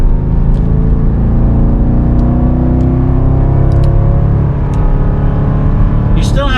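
A 2022 Dodge Durango SRT's exhaust drones steadily and loudly from inside the cabin while driving, a low continuous rumble with slight rises in pitch and faint speech-like sounds mixed in.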